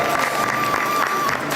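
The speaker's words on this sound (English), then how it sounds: "Give her a big round of applause." Brief burst of audience applause and cheering in a hall during the inaugural session of a state-level conference, steady clapping with crowd noise.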